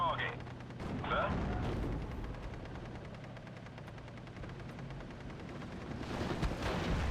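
Bursts of gunfire and explosions sound in a World War II battle in the Steel Division: Normandy 44 strategy game, with a few sharp shots near the start, a quieter rumbling middle and renewed blasts at the end.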